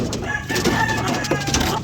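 Chickens cluck and a rooster crows in a busy breeding pen of White Leghorn and Rhode Island Red crosses, layered bird calls over steady background noise, with some talking mixed in.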